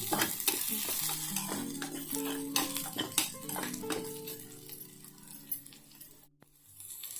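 Green chillies and onions sautéing in a pan for a quick tiffin sambar, steady close sizzle broken by repeated metal spoon scrapes and clinks against the pan, continuous with no talking.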